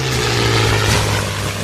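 A WWII fixed-wing propeller airplane drones loudly and steadily throughout, a constant engine hum with no voices over it.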